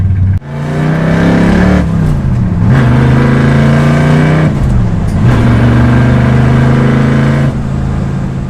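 A 1965 Shelby Mustang GT350 V8 roars at full throttle, loud and close, with the engine note climbing and dropping through two gear changes.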